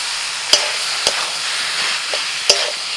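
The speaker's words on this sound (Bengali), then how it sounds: "বেশ ভালো করে এবার মশলার সাথে কষিয়ে নেব" Fried potatoes and boiled cabbage stir-fried in a pan with turmeric, coriander, cumin and Kashmiri chili powder and a little sugar: a steady sizzle broken by four sharp spatula knocks against the pan, no talking.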